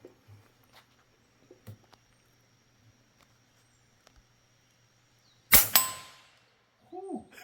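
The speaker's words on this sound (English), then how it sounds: "it rings that bell is right" Projectile striking a steel silhouette target bell outdoors, one sharp loud metallic clang with a ringing decay, preceded by faint scattered ticks and followed by a brief voice.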